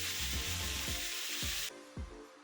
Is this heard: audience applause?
no